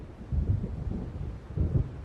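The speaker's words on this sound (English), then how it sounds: "It seems there's a storm coming." A storm rolls in over the water in the Alan Wake game as low thunder rumbles in two swelling waves, deep and moderately loud, over a soft bed of wind.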